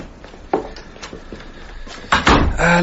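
A front door is handled with a few soft knocks and scrapes, then a louder clunk and rattle of it opening or closing near the end, close by with room noise.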